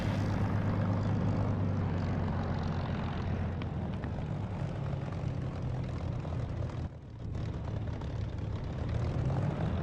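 Spitfire propeller aircraft just after takeoff in the DCS flight simulator game, its engine a loud, continuous droning roar that holds steady throughout, with one brief dip near the end.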